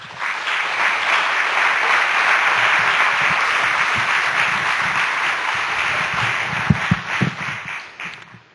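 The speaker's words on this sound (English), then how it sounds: "let's give a round of applause for our panelists" An audience at a school event gives a long round of applause for the panelists. It is loud and steady and close, thinning out toward the end with a few louder individual claps.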